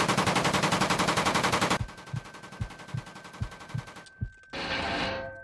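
Machine gun fire in a World War II combat video game mowing down infantry, with a rapid, steady burst of closely spaced shots followed by slower, separate heavy bangs and then a sustained engine-like roar.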